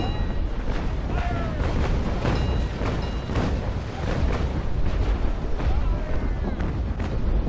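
Booming broadside cannon fire from a brig in Naval Action Legends, repeated heavy blasts over a constant roaring sea-battle ambience, with a voice talking at moments.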